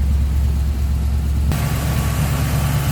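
A 1964 Chevrolet Impala SS with a 327 V8 idles close by, a steady low rumble that shifts to a slightly brighter, fuller tone halfway through.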